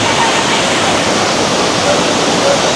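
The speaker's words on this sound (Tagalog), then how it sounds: "So ito yung Daranac Waterfall, guys. Very famous in Tanay Rizal area." Daranac Waterfall in Tanay, Rizal, roars as a loud, constant wash of falling water filling the whole clip.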